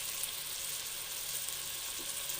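Onions frying in a pan, a steady close hiss of sizzling oil with no talk.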